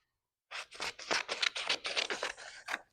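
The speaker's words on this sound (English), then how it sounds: "Let me cut this down a little bit." Scissors snip through shipping label paper with a packing slip attached, a quick run of close, crisp cuts starting after a brief silence and continuing rhythmically to the end.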